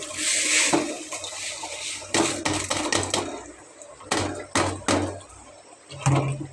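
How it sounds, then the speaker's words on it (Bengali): Hot water poured from a vessel into rice in a cooking pot for chicken biryani, short splashing pours in several bursts with clinks and knocks between them, fairly close. "এই গরম পানিগুলো চাউলের মধ্যে দিয়ে দিচ্ছি"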